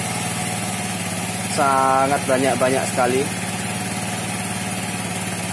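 A Honda Vario 110 scooter engine idles steadily with a low, even hum throughout, while a person speaks briefly over it midway; the scooter has been producing smoke after an engine rebuild.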